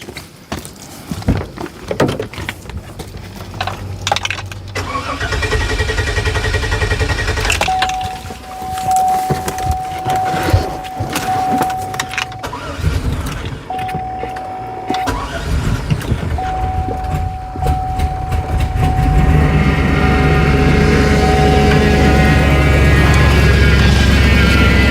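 A Hummer that has sat unused cranks on a jump starter, catching and running in rough, uneven bursts with a steady electronic whine over it, then building to a louder, sustained engine roar.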